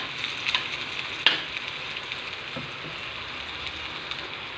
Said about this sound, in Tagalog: Gigisa ko muna yung mga ricados.